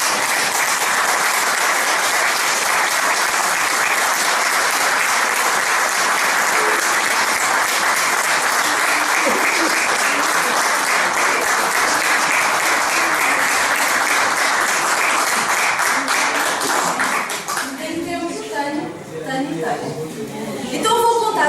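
An audience applauds loudly and continuously for a long stretch, dense clapping filling the room before it thins out and a voice begins speaking.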